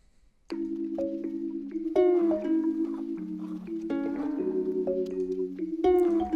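A recorded Spanish guitar sample played in D, plucked in a clear, steady melodic phrase of bright notes over a low sustained tone, up close with no voices.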